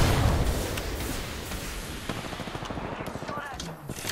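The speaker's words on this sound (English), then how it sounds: "shots on me" Rapid gunfire from the video game Apex Legends crackles in dense, fast bursts, loudest at the start and then continuing in quieter repeated shots, with a player talking over it.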